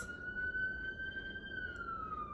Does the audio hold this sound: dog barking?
no